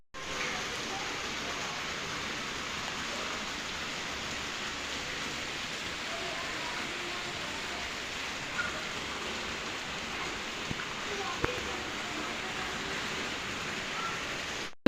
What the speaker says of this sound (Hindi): बारिश इतनी तेज़ हुई और बहुत मज़ेदार मौसम हो गया बारिश की वजह से